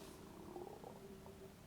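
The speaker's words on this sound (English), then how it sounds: "The noise my stomach just made." A stomach growls faintly, a low, continuous gurgling rumble with slight tonal wobbles that lasts under two seconds in a quiet room, with no talking.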